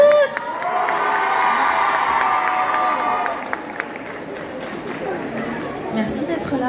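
A festival audience at a sitcom fan convention in Japan cheers and applauds, a dense crowd roar with shouting voices that swells for a few seconds and then eases, with talk mixed in.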